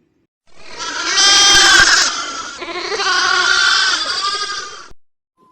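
A goat bleats twice, loud and close. The two long, wavering cries come back to back, with a short break between them and silence before and after.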